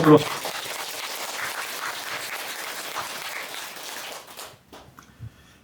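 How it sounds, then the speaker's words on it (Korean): A room full of people applauds at a Buddhist dharma service in Korea, a steady wash of clapping that fades out near the end, with a brief voice at the start. "박수 한번 칩시다"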